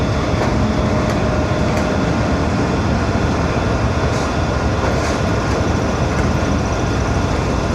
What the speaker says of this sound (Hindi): और सामने से 9027 की क़यादत में 5 अप ग्रीन लाइन पहुंच रही है जी लाहौर जंक्शन पे।